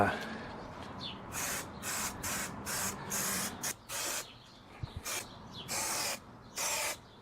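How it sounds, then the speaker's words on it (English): A spray glue can, shaken and sprayed onto a car headliner, hisses out in a series of short, sharp bursts, each roughly half a second, with brief pauses and faint rattles between them, close up. "So the idea is to spray it on fairly thick and then just let it get tacky."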